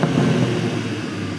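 A new BMW M2 engine runs with a steady, loud low rumble, a continuous drone with no breaks over a brief moment, heard alone without any talking.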